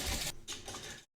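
Pinball machine match sound awarding a free game, two short bursts of bright mechanical noise with a brief gap between them, close and fairly soft, then abrupt silence.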